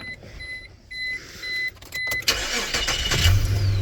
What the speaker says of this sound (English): If I come around the front first and start the engine